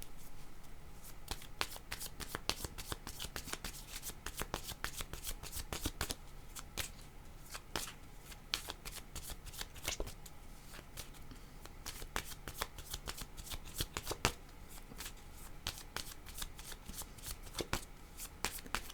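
Tarot cards are shuffled for a reading, a quiet, steady stream of crisp riffling and snapping card sounds repeating close up for the whole stretch, with no talking.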